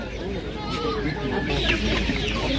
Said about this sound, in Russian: Сегодня большой выбор цыплят, курочек, петушков.